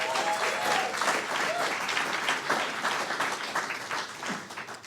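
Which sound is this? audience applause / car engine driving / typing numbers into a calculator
audience applause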